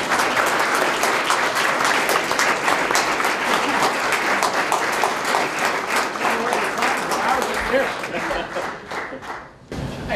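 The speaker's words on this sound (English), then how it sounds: "I didn't know why they were clapping." An awards-ceremony audience claps steadily for about ten seconds in a loud, sustained wash of applause, with faint voices and a murmur underneath as the clapping thins near the end.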